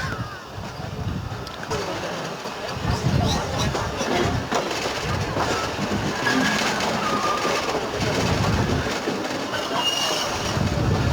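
Passenger train pulling out of Mankiala railway station in Pakistan, a steady rumble of railcars and wheels with faint squeals, birds and distant voices mixed in over about eleven seconds.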